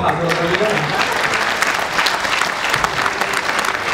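Concert audience applauding for a singer-guitarist at a live show, a dense, steady wash of clapping with crowd noise and a voice speaking over it throughout.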